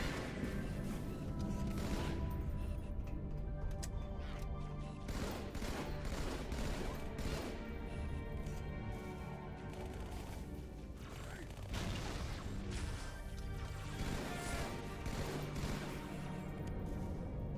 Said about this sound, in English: I'm just throwing grenades and noob comboing them as they come out.